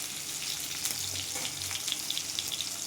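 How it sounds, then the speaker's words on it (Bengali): Pieces of tender young ash gourd, homegrown, fry lightly in oil in a pan, giving a steady, close, hissing sizzle with faint crackles and no talking. "এবার চাল কুমড়োগুলো ভেজে নেব"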